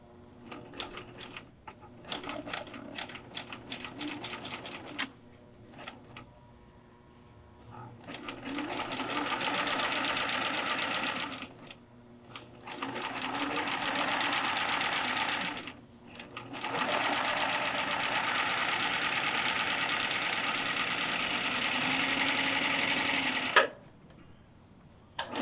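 A serger sewing machine stitches a zipper into a pillow, running in long loud sustained bursts separated by short pauses, with a person talking quietly between runs.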